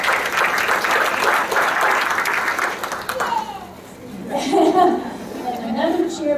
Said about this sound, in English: And another cheer from the crowd